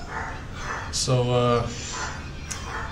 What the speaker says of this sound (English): if you hear the, that in the background, it's my wife's yapping dog.